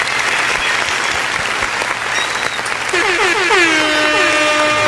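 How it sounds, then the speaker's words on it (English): Loud, dense clapping from a podcast audience runs throughout, joined in the second half by a sustained horn-like blare with rising tones layered over the applause. "They clapping it up right now."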